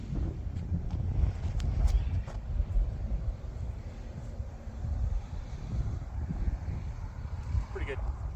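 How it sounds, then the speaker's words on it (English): Swirling wind on a disc golf course rumbles against the microphone in a steady low roar with gusty swells, heard alongside a voice talking. "it's windy today"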